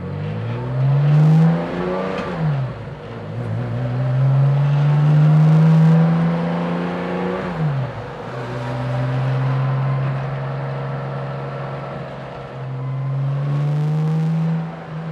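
A Porsche hot rod engine breathing through intake trumpets revs hard at full throttle in repeated rising pulls, each climbing pitch broken by a brief drop at the gear change, loud and close with no talking.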